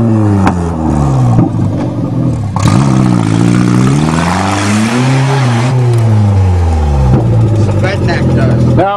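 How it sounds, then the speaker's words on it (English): Engine of a 1994 VW Jetta revving hard and rising and falling in pitch while the clutch burns, loud and close, with people talking over it. "Quit burning the clutch!"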